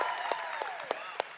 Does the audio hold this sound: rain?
no